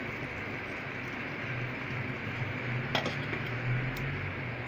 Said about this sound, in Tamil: இப்போ ஒரு லிட்டை போட்டு மூடிடுவோம்.